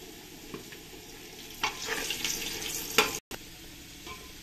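Potatoes seasoned with a little salt and turmeric fry in hot oil, a continuous close sizzle broken by a few sharper stirring scrapes and clatters, with no voices.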